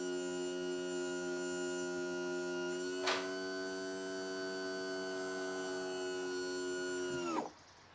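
A trim pump from an SEI kit on a 1976 StarCraft boat, filled with transmission fluid, runs with a steady electric whine and hum, a brief click midway, then winds down and stops near the end.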